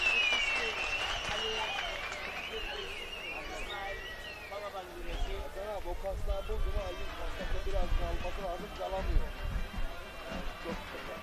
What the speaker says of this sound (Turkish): Coşkuyla alkışlıyoruz.